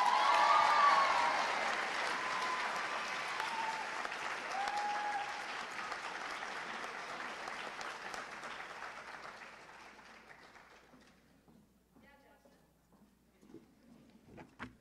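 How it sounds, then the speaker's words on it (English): A hall full of people at a high school awards program applauds loudly, the clapping gradually thinning and fading to near silence, with a few scattered claps at the end. "Can we have one more round of applause"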